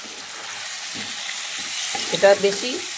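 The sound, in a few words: fried chicken added to sizzling spice masala and stirred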